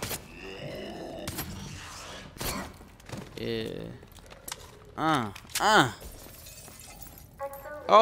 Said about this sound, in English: I could have broke that glass too, right?